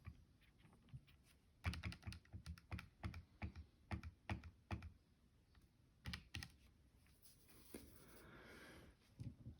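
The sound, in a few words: typing on a keyboard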